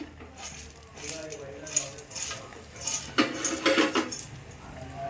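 Peanuts are tipped into a cooking pan while making Ginnu, a traditional sweet, giving quick clattering rattles and small metallic clinks in bursts, moderately close and fairly faint, with someone speaking over them.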